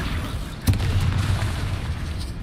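A Bombarda blasting spell explodes in the video game Hogwarts Legacy, a single deep boom that hits early and trails into a heavy continuous rumble.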